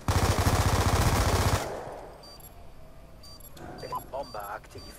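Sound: gunfire in a video game

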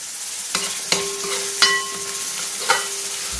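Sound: onions frying with ginger garlic paste for chicken curry

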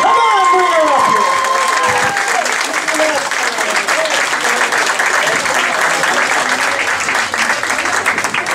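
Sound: audience applause and cheering

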